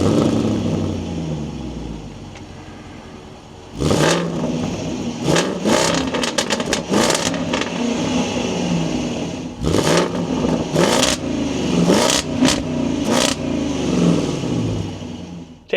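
A 2026 Land Rover Defender 130 V8 engine starts partway through after a low background hum, then idles with a steady rumble broken by several short bursts of revving.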